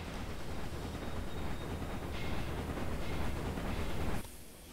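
A freight train runs along the track in the Railway Empire game, a steady broad rumble and rush of wheels that swells slightly, then drops away abruptly near the end.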